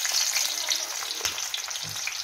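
Onions sizzle and crackle in hot oil in a pan while Maggi noodles are being made, a bright, steady frying hiss heard up close with a few stirring scrapes.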